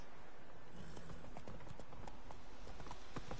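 Horse hooves clip-clop at a steady trotting pace in The Witcher 3: Wild Hunt, the rhythmic hoofbeats loud and continuous against ambient game sound.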